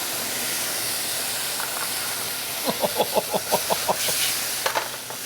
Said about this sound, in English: So now we're going to deglaze with the cherries and the brandy